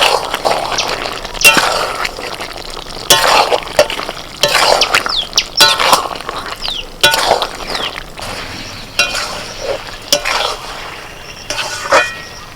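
Chicken sautés dry in a pan and is stirred with a spatula, giving loud scraping sweeps and clinks in bursts, with a soft sizzle in the pauses, close and without talk.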